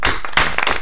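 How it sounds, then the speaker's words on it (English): Dense clapping from several hands, quick overlapping claps over less than a second, close and fairly loud, with no voices. "Sure, we'll add some clapping noises in the background."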